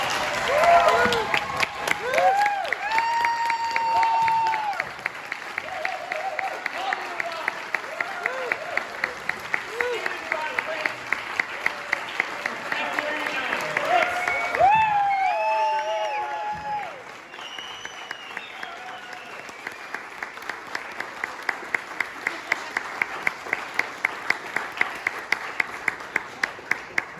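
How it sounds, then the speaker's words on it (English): Audience applause and cheering at PuppetCon 2023 after an Umbrella Tree stage show, sustained across the whole stretch with shouts and whoops rising above the clapping, a few voices calling out, and a swell near the middle. "can we please have a giant round of applause?"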